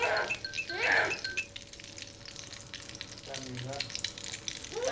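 Chocolate French toast fries in a pan with a steady crackling sizzle, while people talk briefly near the start and again toward the end, close by.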